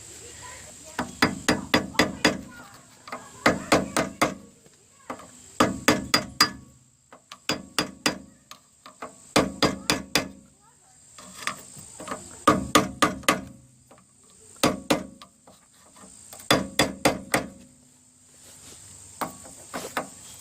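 Metal hammer blows seat a bearing cap on the rear wheel bearing of a 2002 Nissan Maxima, heard as close, sharp, ringing metallic strikes in quick groups of four to six, repeated steadily with short pauses between groups.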